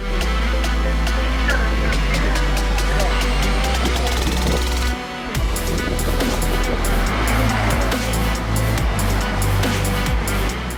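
Race cars roar off at the start of a race at the Le Castellet circuit in southern France, loud engines rising and shifting through gears with a brief dip midway, under a commentator's voice.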